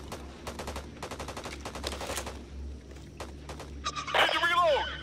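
Rapid bursts of automatic gunfire in the zombie shooter game Back 4 Blood, sharp repeated cracks in quick clusters, followed by a shrill, warbling creature screech near the end.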